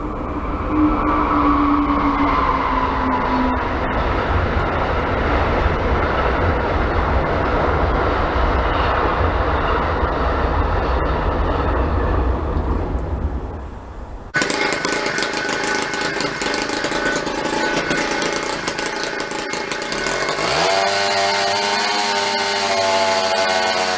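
A motorized bicycle engine with a jack shaft idles low and steady, a continuous loud buzzing drone with a sharp change in tone partway through, then a rising whine near the end.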